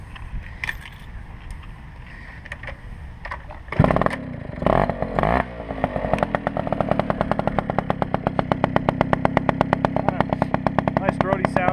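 A Yamaha Chappy motorcycle fitted with an MLM exhaust pipe is started after some handling noises, then settles into a loud, rapid, rhythmic putter of close-up idling.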